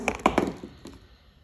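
A die rolling during a board wargame: a few quick, close clattering taps and thunks on a hard surface that fade out within a second, with no voices.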